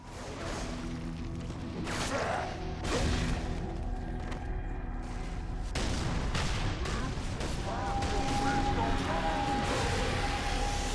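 Heavy, booming grenade explosions mixed with continuous gunfire in a Halo game. The sound is dense and loud, with a sustained roar and some tonal effects layered underneath.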